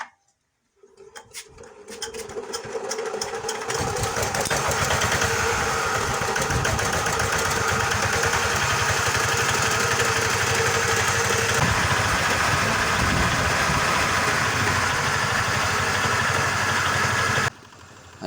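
An R180 single-cylinder diesel engine, freshly fitted with a new head gasket, starts and settles into a loud, steady close-up idle with a rapid thumping beat and strong vibration, then cuts off near the end.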